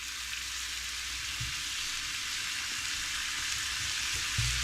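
Patted-dry cubes of potato and carrot fry in a pan, giving a steady, even hiss of oil that continues throughout, with a couple of soft knocks from the pan.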